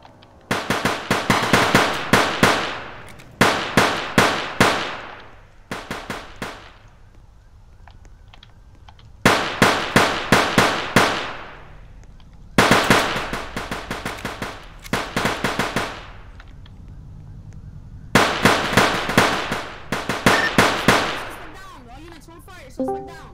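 Rapid automatic gunfire crackles in repeated loud bursts during a Roblox police shootout, each volley lasting a second or two with short pauses between, and a voice briefly audible near the end.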